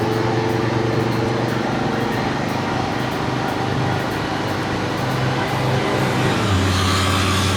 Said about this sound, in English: then a car was coming the other way